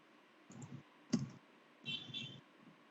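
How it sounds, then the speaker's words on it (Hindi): A computer mouse being right-clicked during a Linux command-line class: a few faint, sharp clicks spaced apart, with quiet room tone and no voices. "right click paste"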